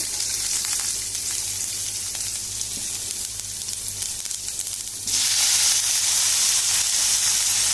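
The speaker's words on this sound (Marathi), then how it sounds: "ह्याच पॅनान हांवें न्ही तेल घातलां आनी सासवां घातली।" Mustard seeds sizzling in hot oil in a pan for a Konkani veg thali, a loud continuous close hiss that swells even brighter partway through, with no talking.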